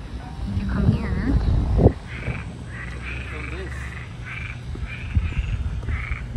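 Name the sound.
frogs croaking near a Florida house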